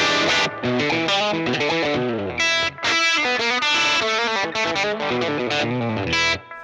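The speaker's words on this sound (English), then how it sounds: "a very classic overdrive sound where we're really pushing the front end of this amp" An electric guitar through a Fender Tweed '55 5E3 Deluxe amp emulation, front end pushed into warm, crunchy overdrive, plays a melodic phrase of single notes and chords, loud and close.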